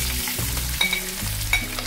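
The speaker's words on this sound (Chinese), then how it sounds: "热锅下油，油热下入茄子" Eggplant frying in hot oil in a wok, a steady close sizzle with occasional stirring clinks.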